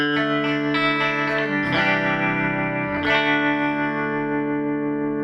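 Electric guitar through a Sweet Blackberry amp, a few sustained, chimey chords ringing out one after another at steady loudness, heard alone with no voices.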